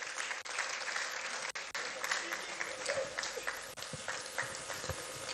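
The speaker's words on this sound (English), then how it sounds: "I believe we can make the applause a bit louder." Press-briefing audience at the Ministry of Industry, Trade and Investment breaks into sustained applause, a dense, even patter of many hands heard from across the room, with brief dips along the way.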